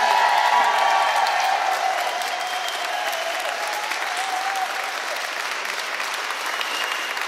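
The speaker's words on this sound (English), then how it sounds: "so huge cheer." A crowd cheers and applauds at a charity event celebration, a dense, sustained wash of clapping with scattered shouts, steady and fairly loud throughout, slightly fuller at the start.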